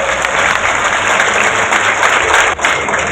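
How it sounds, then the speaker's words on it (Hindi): Crowd at a political welcome gathering in Panna breaks into loud, dense applause, a continuous roar of many hands clapping close by for about three seconds with a brief dip near the end. "मंच के सभी परिवार के साथियों से कहता हूं कि जोरदार तालियों से स्वागत करो"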